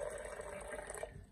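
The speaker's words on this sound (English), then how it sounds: "I've got a water jug here, so I'm just going to fill it up with a little bit of water" Water poured from a jug into a blender container for a green spinach smoothie, a short steady liquid splash heard close up with no talking.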